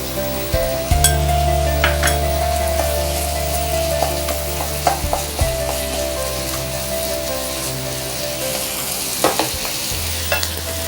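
Red chilli paste frying in a pan for chilli squid makes a loud, steady sizzle close by, with scattered clicks and scrapes from stirring.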